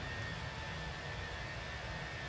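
Jet engines of a Fenix A320 in a flight simulator roar during takeoff, a steady broadband rumble and whine with a faint high tone, continuous and fairly quiet, with no voices.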